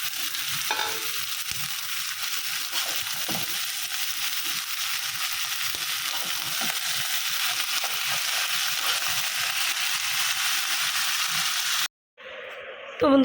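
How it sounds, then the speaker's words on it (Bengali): Chopped onions and green chillies fry in a pan with a steady close hiss and crackle, occasional stirring scrapes, cutting off abruptly near the end. "এই যে পেঁয়াজটা একটু লাল লাল করে ভেজে নিচ্ছি"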